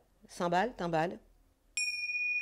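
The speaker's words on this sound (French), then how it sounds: "mon faux coup de gong" A fake gong strike comes as a bright, sustained metallic ding that rings on steadily, following a brief burst of voiced vocal sound and a moment of quiet.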